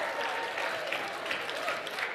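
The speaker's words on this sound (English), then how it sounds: "Big round of applause for them" An awards-ceremony audience gives the judges a round of applause, a continuous wash of many hands clapping at moderate distance, steady and fairly soft.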